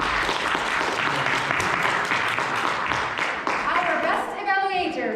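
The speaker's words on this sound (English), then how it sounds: "Big round of applause for you." An audience at a Toastmasters club meeting applauds with sustained, even clapping for several seconds, fairly close, before it fades and a voice takes over near the end.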